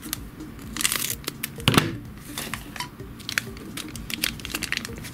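Crinkly orange plastic candy-kit packet rustling up close, in irregular bursts of sharp crackles and rustles, with a louder crumple partway through.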